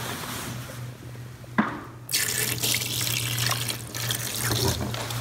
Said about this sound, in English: Let's put a bit of more water on there.